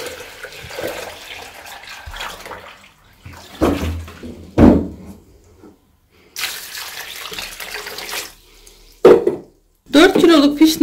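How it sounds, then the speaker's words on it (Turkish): Cold water poured onto four kilos of sour cherries in a pot: splashing, gushing pours in several bursts with gaps between, close and fairly loud, while a voice talks at times. "Fişneme tam 8 litre soğuk hazır suyumu ilave ettim."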